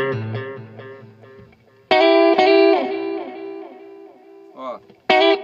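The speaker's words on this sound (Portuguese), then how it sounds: "O lo-fi ele tem um filtro bem forte. Então ele dá uma distorção na repetição, no eco" Electric guitar chords through a Flashback Delay pedal in lo-fi mode, each struck chord followed by filtered, gritty, distorted echo repeats that decay before the next loud strum.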